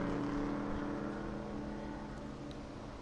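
Race cars at Barber Motorsports climb over a hill on a championship race Sunday, a steady distant engine drone with layered tones that holds throughout, slightly fading near the end.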